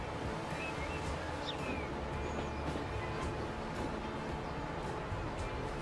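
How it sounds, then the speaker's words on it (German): A train in the video game Transport Fever pulls into a station with a steady, loud rolling rumble and faint rhythmic clacks throughout, with no voices. "jetzt fahren wir erstmal rein in den Bahnhof"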